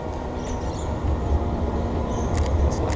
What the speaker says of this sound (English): Is this tram coming?